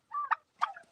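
Turkeys inside a farm house holding about 8,000 birds gobble loudly and close by in two quick, warbling bursts, with no other sound between them.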